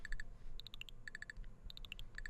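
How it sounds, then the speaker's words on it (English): A LEGO Super Mario figure beeping out its red coin jingle: quick bright electronic chimes in short repeated groups of three to five notes, faint and tinny with a quiet background. "It's making the sound as if the red coins are there."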